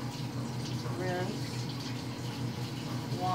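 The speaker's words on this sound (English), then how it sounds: "So this is how you wash his glasses. You rinse them off" Tap water runs steadily into a sink while eyeglasses are rinsed, a soft continuous splashing hiss under a person talking throughout.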